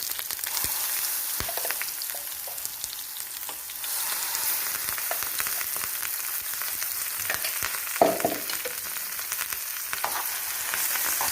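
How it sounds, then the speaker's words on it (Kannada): Ground masala for a fish masala fry sizzles steadily in a pan, a close, continuous hiss and crackle broken by occasional clinks and stirring scrapes, with no talking. "ಒಂದು 5 ರಿಂದ 6 ನಿಮಿಷ ಫ್ರೈ ಮಾಡಬೇಕು"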